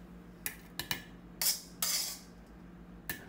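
Chili, shallot and garlic being pounded in a mortar for Thai chili paste with pork, giving sharp, close knocks in an uneven rhythm, some ringing briefly and a few longer grinding scrapes.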